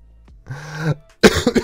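Dry coughs and throat clearing from a man with a sore throat, a low rough hack followed by a few loud, close bursts after a brief pause.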